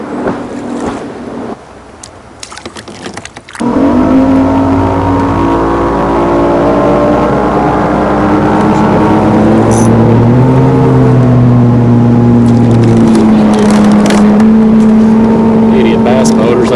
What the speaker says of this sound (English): here comes a bass boat on me.